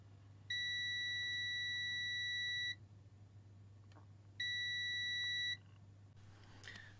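Two long electronic beeps from a tester checking an Epson printer driver chip, each a steady high tone about two seconds long separated by a pause, sounding close and clear over a faint background hum.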